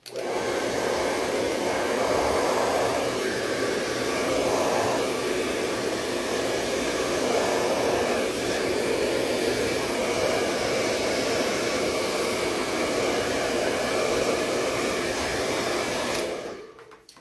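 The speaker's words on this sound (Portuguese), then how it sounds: "Vou esquentar um pouquinho aqui no secador" A hair dryer blows continuously close by while heating a makeup holder, a loud steady whooshing hum with slight shifts as it moves, cutting off at the end.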